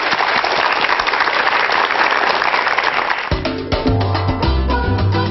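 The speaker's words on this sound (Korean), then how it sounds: "큰 박수로 강연 청해 듣겠습니다." Loud, dense applause from a studio audience welcoming a speaker to a televised lecture, steady for about three seconds before music with sustained tones takes over.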